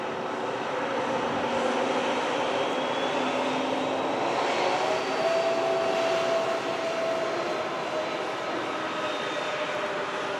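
An Etihad airliner departing from Manchester Airport gives a steady, sustained jet roar with a rising whine partway through, moderately loud and unbroken for the whole stretch, with no voices.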